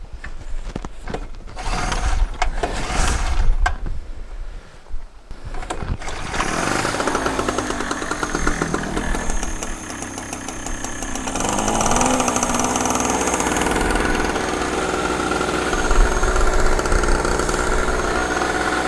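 A new portable generator engine cranks with a few uneven bursts, then catches and runs at a steady mid-pitched drone close by, settling into an even idle.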